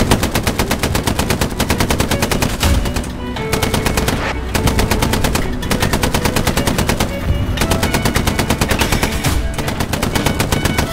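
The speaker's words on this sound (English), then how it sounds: "Fire what we got, just keep firing smoke as we can." Rapid, relentless tank and gun fire in a tank combat video game, loud dense rattling bursts with brief pauses, firing smoke rounds in a sustained barrage with no talk.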